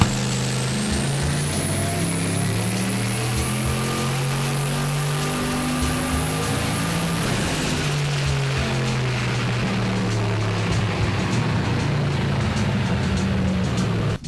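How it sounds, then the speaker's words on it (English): Turbocharged 1UZ V8 in a Lexus LS400 running pulls on a dyno at 24 psi, a loud sustained engine roar with rising whine that climbs then drops after about seven seconds before building again, steady and close throughout. "So it was back onto the dyno, 24 psi, do a couple of pulls and see what we get this time with the new plugs in."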